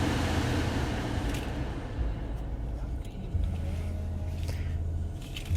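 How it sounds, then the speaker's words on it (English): A 2020 Ford Escape SE AWD, push-button started, settles into a low steady engine rumble heard from inside the cabin, idling evenly with slight swells and no voices. "we're going to use the push button start to get this thing started up here"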